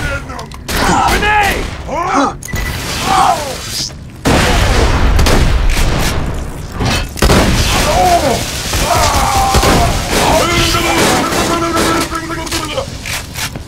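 Tesla grenade going off in the shooter game Borderlands 2, heard as dense bursts of explosion and gunfire with electrical crackle, loud and close, mixed with other game effects.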